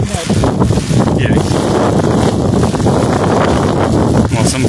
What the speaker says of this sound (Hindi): किस तरह से बीच बीच में तेज़ हवाएं भी चल रही हैं